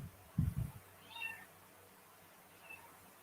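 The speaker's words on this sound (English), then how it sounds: "Kitty Cat said hello" A cat gives a short meow, then a fainter second mew a moment later, both close and soft over a low room hum; a brief thump comes just before.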